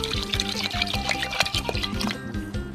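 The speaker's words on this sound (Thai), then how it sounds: "ใส่น้ำลงไป ก็ใส่น้ำลงไปครับ" Water is poured into a pot of washed sticky rice, a close, continuous gurgling splash of liquid filling the pot, lasting throughout without any voices.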